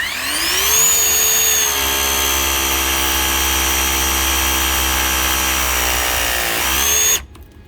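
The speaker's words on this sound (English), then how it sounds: "All that pressing took less than 5 minutes." A hydraulic press tool crimps a joint on a CHP unit coolant line, a loud steady motor whine that rises in pitch as it starts, holds for several seconds, then climbs again and cuts off abruptly.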